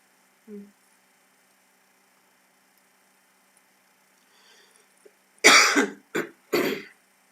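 A brief faint sound early on, then near silence, followed by three close, loud coughs in quick succession.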